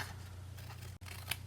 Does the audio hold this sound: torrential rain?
no